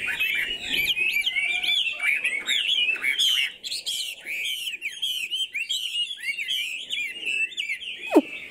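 A yellow songbird with a white crown sings continuously in a close, bright stream of rapid chirps, trills and whistled phrases, with no talk.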